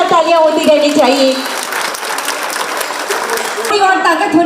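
Crowd applause greeting the chief minister at a public event in Ranchi, a dense steady wash of clapping that runs throughout beneath a voice speaking over it.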